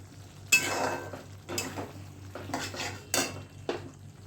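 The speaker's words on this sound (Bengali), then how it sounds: "ভালো করে মশলাটা কষিয়ে নিলাম।" A spoon scrapes and stirs masala sautéing in a pan for soybean curry, making five distinct bursts of metallic scraping and clinking at an uneven rhythm, close and moderately loud over a low background hum.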